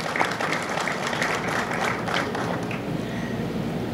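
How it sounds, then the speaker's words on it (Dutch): Sustained applause from an audience of entrepreneurs at an export trade fair for small and medium businesses, steady dense clapping throughout with no voices over it. "Mag ik een applaus voor alle ondernemers die hier zijn"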